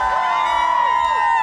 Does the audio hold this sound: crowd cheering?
yes